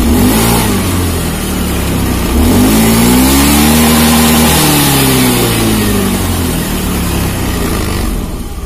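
A motorcycle engine with weak fuel pump pressure revs up loudly close by, pitch rising and holding, then easing back down toward idle.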